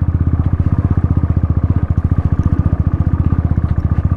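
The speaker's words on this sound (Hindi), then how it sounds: "बाइक पीछे से इसका टायर जो है स्किट कर रहा है।" Motorcycle climbing a wet, muddy mountain road toward a glacier pass, its engine throbbing in a steady fast pulse, loud and close, with the rear tire slipping on the slick mud.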